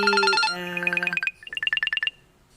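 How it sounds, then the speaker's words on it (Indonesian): A phone ringtone for an incoming call chimes out a bright electronic melody, first sustained tones, then rapid repeating beeps, clear and close with no voices. "maaf itu pasti ada telepon masuk gitu ya"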